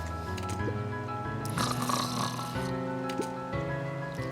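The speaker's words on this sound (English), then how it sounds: "Mr. Sinclair continued snoring and lifted one eyelid just enough to see who it was" An in-game character snores in Beacon Pines, a slow cycle of soft snorting breaths that repeats about every second over a steady background music bed.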